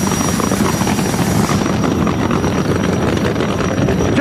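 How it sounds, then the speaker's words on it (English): A loud, steady roar from a jet-powered funny car at a drag race, with a thin high whine, holding constant as if idling nearby, with no voices. "He's going to be taking on the jet-powered funny car."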